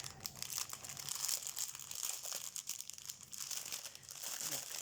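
A small plastic sachet of diamond painting diamonds being opened, loud continuous crinkling and crackling of thin plastic close up, with no talking.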